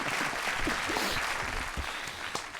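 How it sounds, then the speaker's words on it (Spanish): An audience gives a welcome round of applause in a studio for a psychologist, a dense, even burst of clapping that continues steadily for a couple of seconds. "Un aplauso para él, bienvenido."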